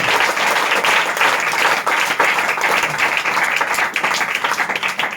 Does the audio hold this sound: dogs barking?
no